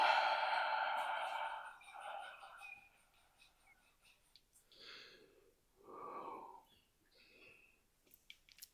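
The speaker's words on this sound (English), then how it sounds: "Breathing is all through the nose. Deep breaths down the lower dantian." Slow, deep breaths drawn and released through the nose during a morning QiGong routine, soft and close, a long exhale followed by several quieter breathing bursts with pauses between.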